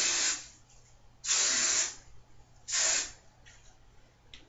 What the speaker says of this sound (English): you're going to hairspray all the roots